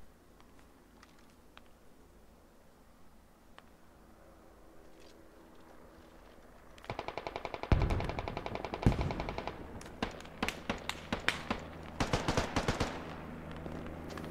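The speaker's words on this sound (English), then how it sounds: "Seriously, I'm getting shot from everywhere." Bursts of automatic gunfire and single shots crack out in a Squad video game firefight, quiet at first, then dense, loud volleys followed by rapid sharp reports.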